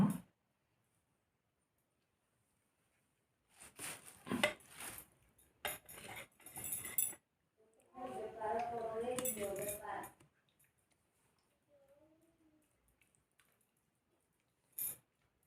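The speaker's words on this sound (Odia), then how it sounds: "ଆମେ ଖାଉଛୁ" Cutlery clinks against plates during a home meal of rice, fried cauliflower and potato fry, in short clattery bursts separated by quiet, with brief talk between.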